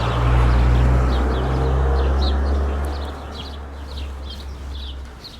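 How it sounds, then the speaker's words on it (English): Birds sing outdoors near seaside houses at Cala Pi, Mallorca, with scattered short chirps over a loud rumbling background of wind or a passing vehicle that fades partway through, and no talk. "Listen to all the birds singing."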